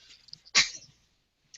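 A single sharp sneeze bursts out near the mic, loud and brief, with faint background murmurs before it and a small click afterward in an otherwise quiet room.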